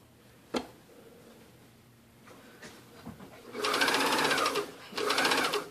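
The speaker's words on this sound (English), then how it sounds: "really needs to be done with either a stretch stitch on your sewing machine or a zigzag" A sewing machine runs in two bursts of fast, buzzing zigzag stitching along a stretchy neck binding, close by, after a few quiet clicks and handling noises.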